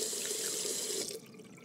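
A tap runs in the video game Captain Spirit, a close, steady splashing stream that cuts off partway through and leaves a faint dripping residue.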